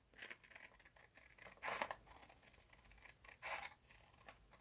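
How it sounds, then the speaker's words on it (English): Paper scissors cutting out paper templates for a quilt, a faint, close series of soft snips and rustles in short bursts with small pauses between cuts. "Then I'm just going to get my paper scissors and cut those out."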